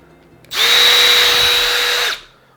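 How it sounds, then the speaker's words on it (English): A power drill whirs up, runs steadily at high speed for about a second and a half, then winds down; loud and close, no voices. "I've got a drill."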